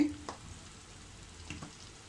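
Chili powder, coriander powder and garam masala sautéing in oil while cooking a fresh green pea curry, a quiet steady sizzle with a couple of brief stirring scrapes near the start and midway.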